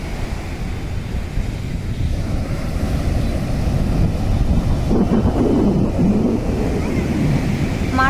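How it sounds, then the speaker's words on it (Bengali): Sea waves roar at night on the shore at Puri, a continuous loud rumbling surf with wind buffeting the microphone throughout. "সাথে সমুদ্রের গর্জনও নিশ্চয়ই শুনতে পাচ্ছ"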